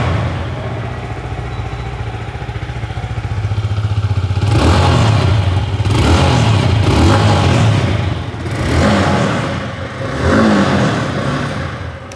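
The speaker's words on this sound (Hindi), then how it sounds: "चलिए सुन लेते हैं एग्जॉस्ट नोट।" A Yamaha R15M 60th Anniversary Edition motorcycle exhaust idles with a low thrum, then is revved hard several times in quick bursts, each blip rising and dropping back.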